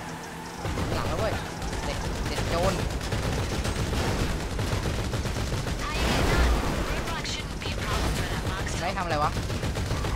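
Sustained gunfire in GTA V Online during a Special Vehicle Work mission runs as dense, continuous bursts at steady loudness, with people talking over the shooting.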